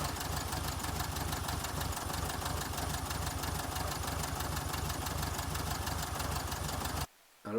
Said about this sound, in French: Et alors voilà le moteur, le petit 1200 34 chevaux qui a été remis à jour et qui tourne à merveille.